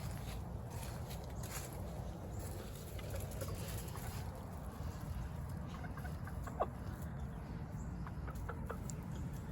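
Hens in a farmyard on a cold, windy day give soft, scattered clucks, faint and somewhat distant over a steady wind rumble.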